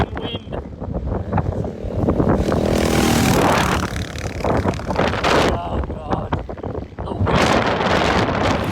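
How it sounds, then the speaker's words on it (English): Heavy wind buffeting a microphone, a loud continuous rumble that surges and gusts throughout, with a voice speaking briefly over it. "This is so freaking windy."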